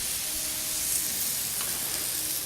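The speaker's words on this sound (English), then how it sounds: "You can hear the sizzle." Steady, close sizzling of a tenderized steak on a hot grill, a constant crackling hiss with no voices.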